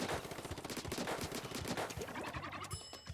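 Heavy Splatling from Splatoon 2 firing a rapid, rattling stream of shots, close and steady for about three seconds, with a short rising charge-up tone near the end.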